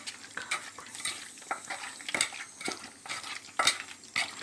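Spices and ginger-garlic paste get stirred into chicken gravy in a pan, with repeated scraping and clinking of a spoon against metal over a soft sizzle, close and uneven in rhythm, no talk.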